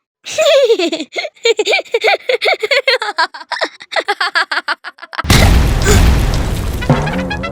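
Excited voices talk and giggle, then a loud booming explosion bursts in and rumbles on, slowly fading.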